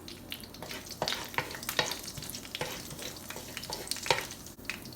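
Fennel seeds fry in hot oil as they are stirred, giving a steady crackling sizzle broken by repeated scraping strokes of the spoon against the pan, close and moderately loud with no voices.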